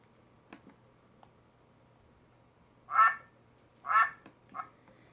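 A duck quacks in two loud, separate calls followed by a shorter third, alone against a quiet background with a few faint clicks.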